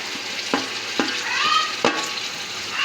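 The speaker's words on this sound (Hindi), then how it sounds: "इसको भी हम अच्छे से फ्राई करेंगे।" Onion, tomato, ginger and garlic fry in a pan with a steady loud sizzle, as a utensil scrapes and stirs through it in a few sharp knocks.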